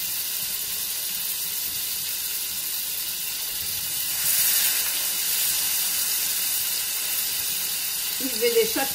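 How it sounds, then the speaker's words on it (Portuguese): Steaks sizzle steadily in a hot pan, a loud continuous hiss and crackle of frying with a brief surge of steam midway, close up and without speech. "E vou deixar fritar."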